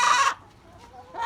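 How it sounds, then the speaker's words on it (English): Excited chickens in an urban backyard coop in Houston cluck in two short loud bursts, separated by a brief quiet gap. "as you can see, the chickens are super excited"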